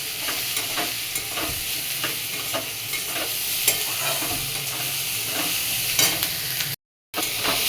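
Fried pumpkin sizzles in a pan while a spatula scrapes and stirs in repeated strokes, with a brief silent gap near the end.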